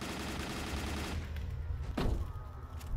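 Gunfire in the video game S.T.A.L.K.E.R.: Call of Pripyat, a dense sustained burst of rapid automatic fire that stops partway, followed by a couple of louder single shots and their echoing tails; no speech.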